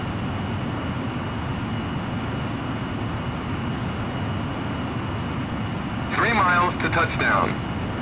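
F-117 Nighthawk in Ace Combat X with a stars-and-stripes mod, jet engine rumbling steadily during a landing approach, broad and fairly loud; a radio voice speaks briefly near the end.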